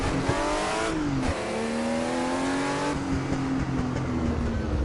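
A car drifts in the racing video game Assetto Corsa, its engine revving loudly and continuously, with pitch rising and dropping through gear changes across the whole stretch, tire noise underneath.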